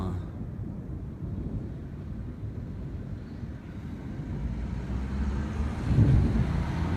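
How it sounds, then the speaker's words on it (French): Low, rolling thunder from a thunderstorm with hail rumbles steadily in the distance, swelling louder toward the end. "Encore des coups de tonnerre."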